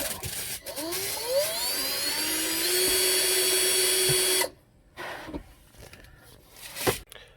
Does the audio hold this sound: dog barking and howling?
no